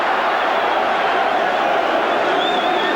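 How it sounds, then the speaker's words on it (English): Rugby league crowd at Leeds, 1986, against Australia, roaring steadily in a dense, continuous wash that swells with approval at a tenacious defensive stand, no single voices standing out. "There's the crowd warming to this Leeds strong defensive effort on that occasion"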